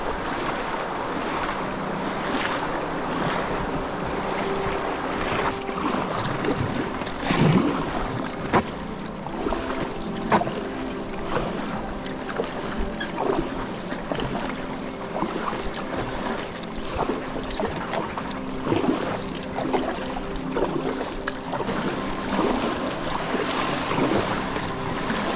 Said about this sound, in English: So I'm just going to chuck the Packraft in and paddle up